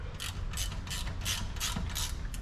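Ratchet wrench cranking on a leaf spring bolt of a minitruck, a steady run of about seven quick clicking bursts close up, with no talking.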